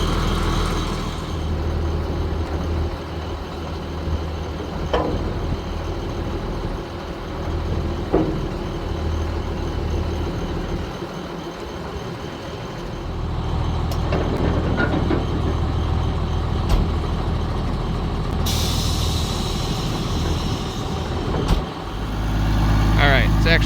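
Diesel engine of a 1987 International S1900 dump truck idling steadily, a continuous low rumble with a few clanks and a brief rise in noise near the end.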